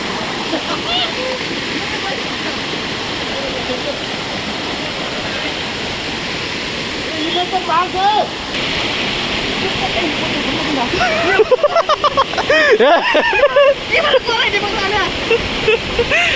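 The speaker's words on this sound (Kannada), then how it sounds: "ನೆಕ್ಸ್ಟ್ ಇದು 3ನೇ ಫಾಲ್ಸ" Delta Falls, a waterfall near Belagavi in Karnataka, roars steadily and loudly with constant rushing water. Voices and some nearby splashing and movement rise over it in the second half.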